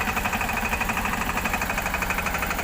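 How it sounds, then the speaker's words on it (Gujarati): A Steeltrac 15 HP tractor engine creeps along in first gear, its close, steady chugging running continuously at an even mid-pitched rhythm with no voices. "15 એચપીનું સ્ટીલ ટ્રેક કંપનીનું ટ્રેક્ટર છે, એ ધીમે ધીમે આગળ વધી રહ્યું છે."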